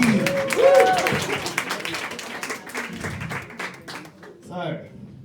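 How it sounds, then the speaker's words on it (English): Audience applause at a stand-up comedy show, a burst of clapping and cheering from the crowd mixed with a host's voice calling out over it, fading as talk resumes near the end. "A round of applause for Eve"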